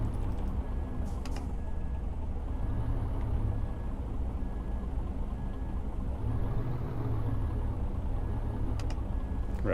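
A truck in Euro Truck Simulator 2 drives along with a steady low engine drone and road rumble, a continuous, unchanging hum and a couple of faint clicks near the start and end.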